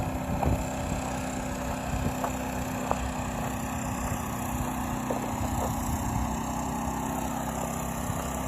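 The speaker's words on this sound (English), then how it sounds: "it is a very, very quiet generator" An eTrailer inverter generator runs about 30 feet away outdoors, a low, steady hum with a faint whine, soft wind noise and a few small knocks over it.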